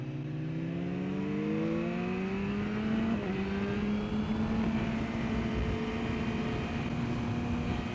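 A Ducati 999R race motorcycle on a track, its engine holding a loud, steady high-pitched drone that rises in pitch, dips briefly and then settles into a sustained whine, close and continuous with no talking.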